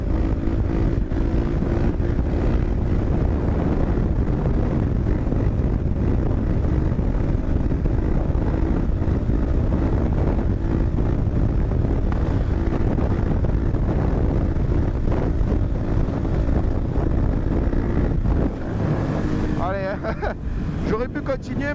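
A supermoto motorbike rides fast on the road, reaching 160 to 170 km/h and lifting into a wheelie. Heavy, roaring wind buffeting on the microphone masks a low engine drone, which eases near the end.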